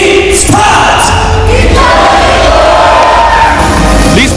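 A large crowd at a pro sports team's 2019 launch ceremony cheers and shouts together in loud bursts, voices swelling and rising with a roar that echoes through a big space.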